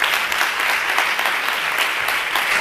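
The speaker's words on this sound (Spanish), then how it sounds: "os pido un aplauso para vuestro compañero" An audience applauds a school radio coordinator at a school radio presentation, giving steady, dense clapping at a constant level from start to finish, with no voices over it.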